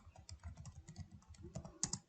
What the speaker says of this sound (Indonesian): jadi kita menekan tombol backspace